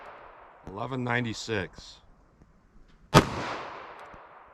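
A 9mm pistol with a 5-inch barrel fires a single 115-grain round, one sharp loud crack that decays in a short echo, coming after a stretch of speech.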